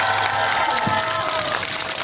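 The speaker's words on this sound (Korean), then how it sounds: "한번 크게 박수로." Crowd at an outdoor Wednesday rally over the Japanese military sexual slavery issue, with about a hundred middle-school students present, clapping and cheering in a dense continuous roar with scattered shouts throughout.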